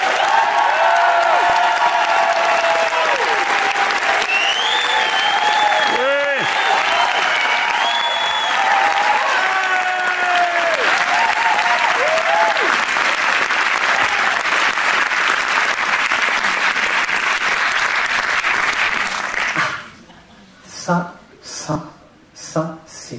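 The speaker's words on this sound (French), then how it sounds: "Des applauses, comme on dit." Audience applause fills a live concert in Studio 105 in Paris, a dense steady roar of clapping with cheers that runs for most of the stretch, then breaks off into a few short bursts near the end.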